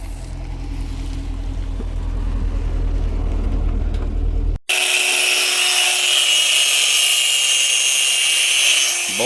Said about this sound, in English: All the bolts had to get cut.